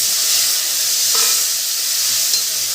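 Asafoetida, turmeric, curry leaves and lemon juice sizzle loudly in hot oil while being stirred for village-style methi muthiya, a dense, continuous hiss close up with a brief stirring scrape.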